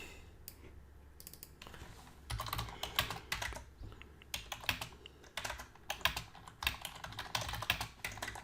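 Typing on a computer keyboard during screen-recording software work, with quiet, close bursts of irregular key clicks separated by short pauses and no talking.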